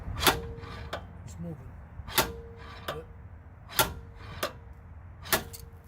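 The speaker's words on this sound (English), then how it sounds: "this time the bearing came out quite easily with just 4 light strokes of the slide hammer" A slide hammer on a 1994–2004 Ford Mustang rear wheel bearing lands four sharp metallic strokes at even intervals, each a loud clack, with faint shop ambience between.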